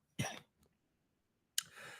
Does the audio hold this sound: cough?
yes